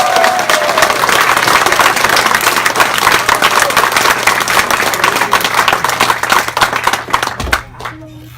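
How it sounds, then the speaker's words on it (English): An audience at a town hall meeting gives a sustained round of dense applause for a board of directors, loud and steady for about seven seconds before tapering off quickly at the end. "So one more round of applause for our 2017 Board of Directors."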